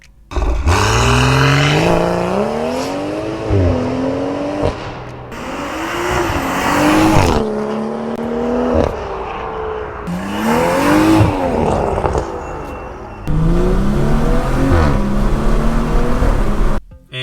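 BMW 340i F30 with a mid-pipe resonator delete, engine and exhaust loud in sport mode, revving hard through repeated rising pulls and gear changes with brief lifts between, close and continuous.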